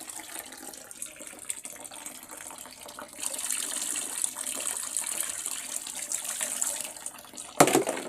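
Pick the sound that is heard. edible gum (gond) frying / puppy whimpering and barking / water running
water running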